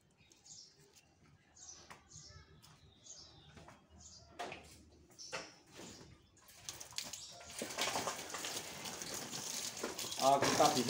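Water is sprayed onto roadside plants to wash off aphids and leaf pests, a rising hiss that builds in the second half and grows louder toward the end, with bird chirps and someone talking earlier on.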